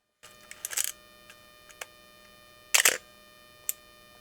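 Mechanical clicks and a whirring wind from a film camera, with a sharp shutter snap and winding bursts separated by quiet pauses, close and crisp.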